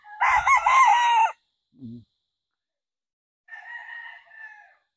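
A White Kelso gamecock, crossed with a Yellow-legged Hatch, lets out one loud close crow, gives a short low cluck, then crows again more softly and briefly, with silence between the calls.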